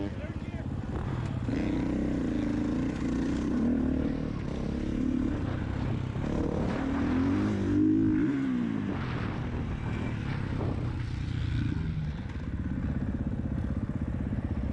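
A motocross bike rides in third gear around the Leadville MX practice track, its engine a steady buzzing drone with rising and falling revs, heard close from the rider's position, with talking over it.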